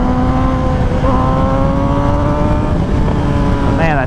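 A 2007 Yamaha YZF R6 sport bike on a mountain road holds a loud, steady high-revving exhaust note that climbs gradually in pitch and stays close and continuous throughout.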